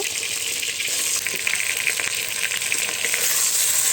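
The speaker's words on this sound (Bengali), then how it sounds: "তেলটা ভালোভাবে গরম হয়েছে এরপরে মাংসগুলো দিয়ে দিব মাংস আলু একসাথে দিয়ে দিব একসাথে ভেজে নেব" Meat and potatoes fry together in hot oil, a loud, steady, close hiss and crackle that holds throughout, with no talking.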